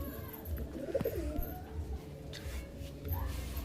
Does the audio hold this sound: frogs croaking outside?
no